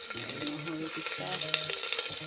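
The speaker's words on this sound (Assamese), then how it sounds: "আদা নহৰু ভালকৈ ভাজি ল'ম" Ginger and garlic fry in a pan with a steady, close sizzle and crackle, while a stirring utensil clinks and scrapes now and then, and soft background music or a tonal hum runs underneath.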